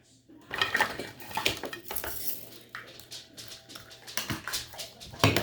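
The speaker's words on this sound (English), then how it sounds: "Alright, so let me get a jar here." Glass jar picked up and handled in a kitchen, with repeated clinks and knocks of glass and utensils, close and busy, over a low background hum.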